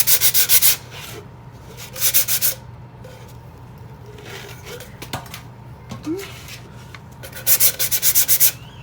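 Dry hand sanding of a skinny straight-walled tumbler coated in Crystalac: short bursts of rapid, rasping strokes repeat every few seconds, with quieter scuffing and handling noises between them.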